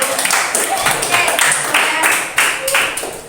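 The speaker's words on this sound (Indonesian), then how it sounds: "terima kasih kelompok 4 yang terakhir, tepuk tangan dong" A small classroom group claps for the last student team after a presentation, a few uneven bursts of hand clapping rising and fading, with brief voices and room noise mixed in.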